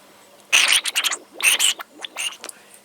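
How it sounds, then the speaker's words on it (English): Air blown by mouth through a small valve being tested, several short breathy hissing bursts in quick succession with brief gaps, close and fairly clear against a quiet background. "if I blow through it now,"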